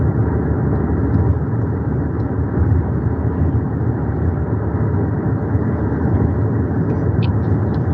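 A car drives down a road around Harlan, Kentucky, heard from inside as a steady, loud rumble of engine and tyre noise that holds evenly throughout.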